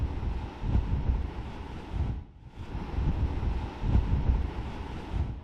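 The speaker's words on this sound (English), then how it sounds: "here we are on the wide and exhilaratingly windy expanse of Brean Beach" Strong wind buffeting a microphone on the wide, open expanse of Brean Beach in Somerset in winter, a loud, low roar in surging gusts with one brief lull midway and no voices.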